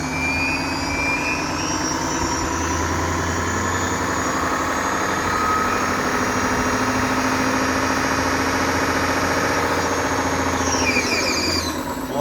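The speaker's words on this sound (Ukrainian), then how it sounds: "Колесо можливо розкрутити до понад 80 км за годину." An OK 080 wheel spinner turns a vehicle wheel at high speed, producing a steady loud whirring drone with a low hum and rising tonal whine, continuous and close, with no talking.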